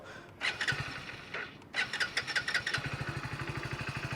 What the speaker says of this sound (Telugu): ఇప్పుడైతే నేను బండి స్టార్ట్ చేసి చూపిస్తాను